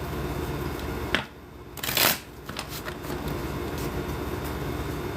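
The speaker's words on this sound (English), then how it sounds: "I shuffle because I need some sort of stimulation." Tarot cards are shuffled close by in a steady papery riffle, which breaks off briefly and then swells into a sharper flurry before settling back into continuous shuffling.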